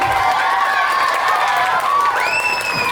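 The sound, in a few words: audience applause for teachers at graduation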